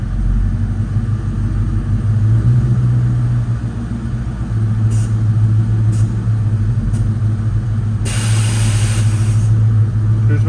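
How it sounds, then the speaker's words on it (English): Air suspension compressors on a 1963 Ford Galaxie wagon whir steadily over the idling engine's low rumble. A short burst of hissing air follows near the end. "Hear the compressors running? Kicking on,"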